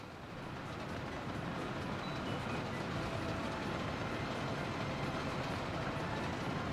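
A train rolls along rails in the Soviet-era city-building game Workers & Resources: Soviet Republic, a steady, continuous rumble with faint clatter holding at an even level throughout, with no talk.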